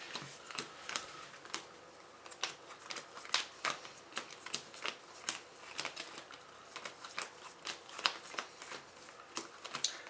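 A deck of playing cards is riffle shuffled at a tabletop game session, giving repeated crisp fluttering rattles and sharp snaps in short bursts, close and fairly quiet, with no talking.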